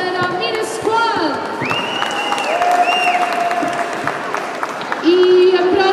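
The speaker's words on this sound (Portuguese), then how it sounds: "Vou pedir então mais um aplauso para a Mira Squad." Lively audience applause and cheering for a performing group at a community festival, dense clapping throughout with a few whoops and raised voices mixed in, swelling louder near the end.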